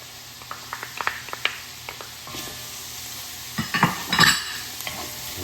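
Minced garlic sizzles with fried chickpeas in a pan while a utensil stirs them. Scattered light clicks and scrapes give way to a louder burst of stirring and sizzle near the end, close up.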